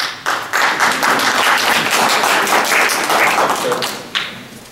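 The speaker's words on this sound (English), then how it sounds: "Give him an applause too." A roomful of people at a board meeting claps for a newly elected member after a unanimous vote. The applause is close and fairly loud, with sharp individual claps standing out at the start and near the end of about five seconds of clapping.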